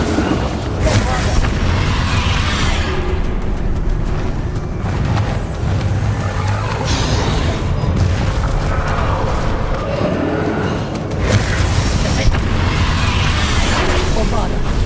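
Booming spell explosions from Bombarda in Hogwarts Legacy, several heavy blasts with rumbling crashes layered over continuous game effects and music, with a voice speaking at points over the din.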